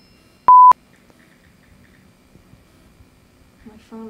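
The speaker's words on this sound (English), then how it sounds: "My phone is texting. With your butt." Mobile phone keypad tones from an accidental pocket press, a single short loud beep pair near the start, then quiet shuffling and a voice at the end.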